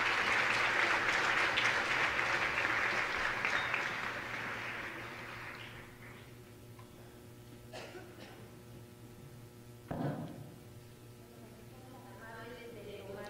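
Loud applause from an audience at a Lasallian education congress fades out over several seconds into a quiet room with low hum and a few faint sounds, while a voice speaks.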